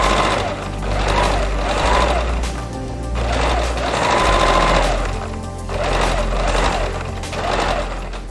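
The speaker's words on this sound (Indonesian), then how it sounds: "Setelah itu kita proses menjahit." An electric sewing machine stitches a facing around a neckline and armhole in bursts, its needle chattering rapidly and loudly up close, pausing briefly between runs as the fabric is turned.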